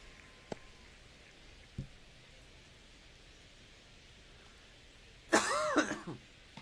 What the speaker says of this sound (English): I'm trying not to cough with my mic on.